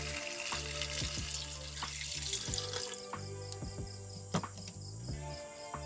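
Distilled water pours over gold-plated circuit-board fingers in a container, a continuous close trickle and splash with a few small clinks, no talking.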